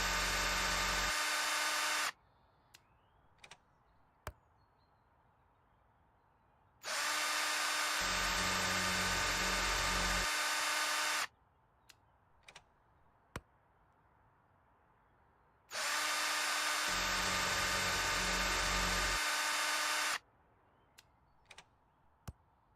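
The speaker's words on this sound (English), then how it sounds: "We got 2 holes to drill" A power drill whirs through three separate bursts of several seconds each while boring holes in House Flipper 2, each loud buzzing run separated by quiet gaps with a few soft clicks.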